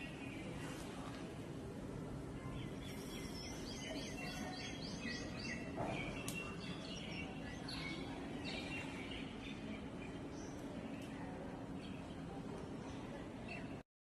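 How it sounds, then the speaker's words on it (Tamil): A sparrow chirps outdoors in a short series of faint, high tweets, partly buried under a steady, dense background wash of ambient noise. "குருவி வந்து உட்காந்துருக்கு கரெக்டாக."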